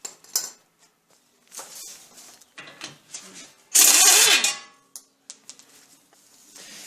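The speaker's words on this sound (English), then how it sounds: "With the pin removed, now we can remove the castle nut." A castle nut comes off the steering linkage of a Jeep Cherokee XJ with scattered metallic clinks and scrapes, then a loud harsh burst of tool noise in the middle, with quieter taps before and after.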